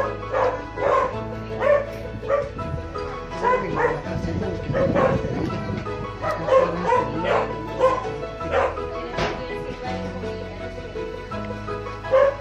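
Several dogs bark and yip repeatedly in irregular bursts, some close and loud, with occasional whimpers and a busy background of people nearby.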